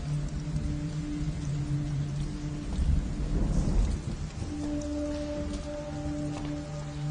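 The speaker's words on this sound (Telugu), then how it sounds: "వర్షం ఇప్పుడప్పుడే తగ్గేలా లేదు." Heavy rain pours steadily while a deep roll of thunder builds and fades midway, with a low hum running underneath.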